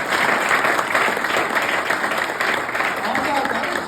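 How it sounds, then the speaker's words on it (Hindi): An audience at an indoor skincare and nutrition talk claps loudly and continuously, a thick sustained burst of applause with a few voices mixed in. "देखो उनके लिए जोरदार तालियां"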